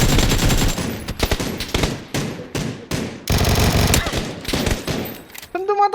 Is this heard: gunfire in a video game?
yes